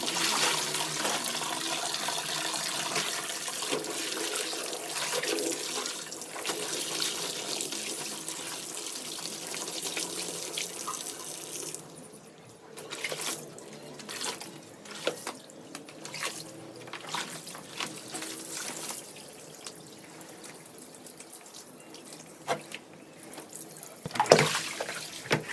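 Tap water running steadily into a sink or bucket while clothes are washed by hand at home, a continuous splashing rush that later breaks into irregular splashes, drips and sloshing handling noises.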